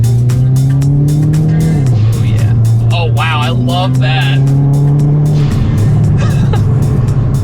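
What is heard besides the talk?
car exhaust and turbo noise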